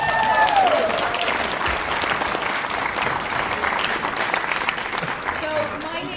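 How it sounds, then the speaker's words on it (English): Theatre audience applauding after a performance of The Life and Times of Michael Coetzee, a steady, dense clapping that fills the whole stretch, loud and close with no gaps. "Let's give them another round of applause."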